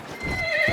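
A horse in a video game whinnies while being ridden, its clear neigh rising over a steady clip-clop of hooves, close and fairly loud for under a second.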